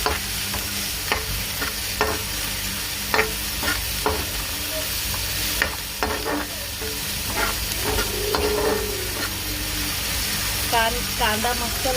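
Chopped onion with salt sizzles steadily in a pan while a spoon stirs it in irregular scrapes and clinks, cooking for egg bhurji; the frying hiss runs continuously at close range, with no voices.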